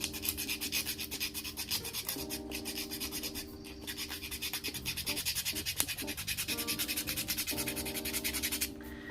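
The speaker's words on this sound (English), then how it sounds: "I'm going to take 8 of these little knobs, and I'm just going to sand them slightly" Small wooden knobs are lightly scuffed by hand with sandpaper, giving a steady, close, quiet rubbing with repeated back-and-forth strokes and no talking.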